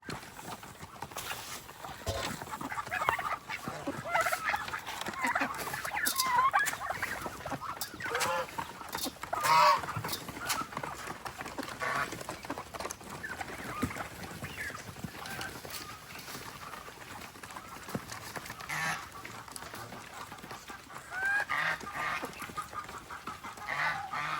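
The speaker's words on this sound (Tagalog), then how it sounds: "Yung mga pabo, tuliro." A noisy flock of turkeys gobbles over and over in overlapping bursts against steady outdoor background noise, with occasional voices.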